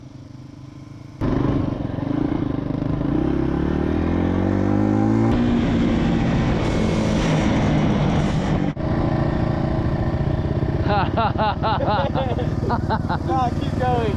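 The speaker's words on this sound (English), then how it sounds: "It was time to take the new dirt bike for its first proper ride." A new dirt bike engine drones steadily and loud on its first proper ride, rising and shifting in pitch as it accelerates, with wind buffeting and people talking over it.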